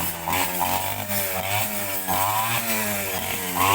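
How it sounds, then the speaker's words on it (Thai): A loud grass trimmer running steadily while cutting grass in a garden near a patch of siam tulip plants, its engine droning and wavering continuously throughout, with no talking. "ลุงก็กำลังตัดหญ้า ป่าดอกกระเจียวนะคะ"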